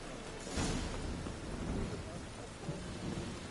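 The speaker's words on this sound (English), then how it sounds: "A storm, damn it." Thunderstorm with heavy rain in The Witcher 3, a broad steady roar of rainfall with low thunder rumbling through it, continuous and fairly loud.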